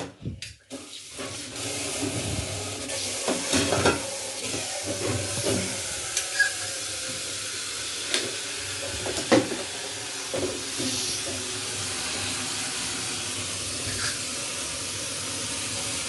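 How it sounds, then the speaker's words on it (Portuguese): Tap water runs steadily into a kitchen sink as dishes are washed, a continuous close hiss with occasional clinks and knocks of crockery. "Vou lavar essa louça aqui rapidinho."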